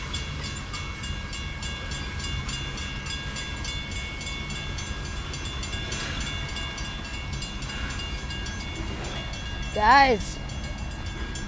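Loaded BNSF coal train rolling past with a steady rumble and rhythmic wheel clatter, sustained at close range; a person speaks briefly, and a short high squeal rises near the end.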